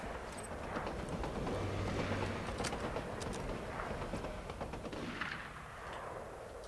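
Gunfire and an explosive tank blast in Borderlands, heard as a dense, rumbling barrage of shots and thuds, steady and fairly loud without pause.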